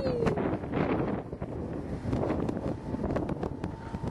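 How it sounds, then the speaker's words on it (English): Wind buffets the microphone outdoors in a steady rough roar with gusty swells, fairly loud and with no talking. "Wind's up."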